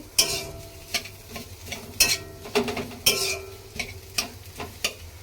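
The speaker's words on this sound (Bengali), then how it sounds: "এদিকে আমি আলুটা কষাচ্ছি।" Spiced potatoes sauté in a pan for aloo paratha, with a low continuous sizzle and a regular series of sharp scrapes and taps as a spatula stirs and turns the mixture, close and without talk.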